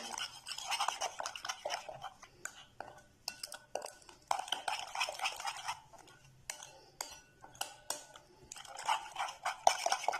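A spoon scrapes and clinks in a bowl while a lemon-juice spice paste for Kashmiri chicken masala is stirred, giving irregular wet scratchy strokes and taps close by.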